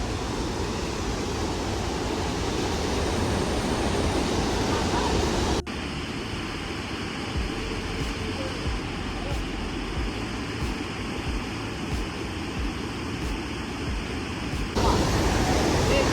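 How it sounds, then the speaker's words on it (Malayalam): A monsoon waterfall in Coorg gives off a steady, broad roar of falling water that fills the scene without a break, with a brief dip and a change in tone partway through. "ഏകദേശം വെള്ളച്ചാട്ടത്തിൻ്റെ തൊട്ടടുത്തെത്തി"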